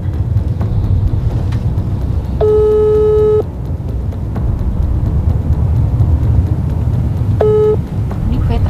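A phone's ringback tone sounds while calling someone, two loud steady electronic beeps spaced several seconds apart, heard over rumbling background noise.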